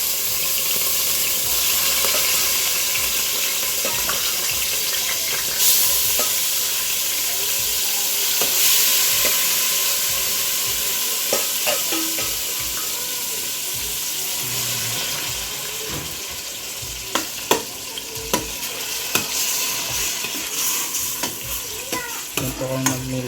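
Garlic frying in a pan for a home-cooked pork nilaga, with a utensil stirring and scraping against the pan over a steady sizzle, plus a few sharper clinks toward the end; no one talks.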